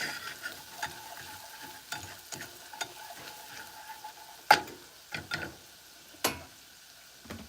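A fresh garlic clove fries in a pan over lowered heat, giving a soft, steady sizzle broken by scattered sharp taps and scrapes from stirring. No one speaks.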